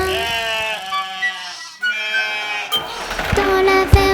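Several sheep bleats sound in a playful nursery-rhyme style over a light musical backing, with a fuller, busier burst near the end.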